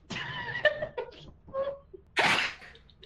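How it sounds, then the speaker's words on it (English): A sneeze in the co-op horror game Lethal Company: a single sharp, fairly loud burst near the end, following a few short voiced, laugh-like sounds. "was that a sneeze?"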